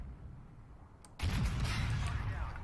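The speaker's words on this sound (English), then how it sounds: "Someone's fired a missile at him, have they?" A missile launched at an enemy vehicle in the tank game Armored Warfare, with a brief whoosh and then a sudden loud blast whose heavy roaring rumble carries on to the end.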